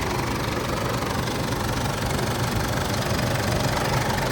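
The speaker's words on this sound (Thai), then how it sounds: "นี่ครับสตาร์ทเครื่องแล้วนะครับ เสียงเครื่องนิ่มๆ เลยครับสตาร์ทขึ้นมา" A 2012 Isuzu D-Max 2.5 Z with automatic gearbox, its engine idling just after starting: a steady, even diesel clatter at constant level, close by, with no voices.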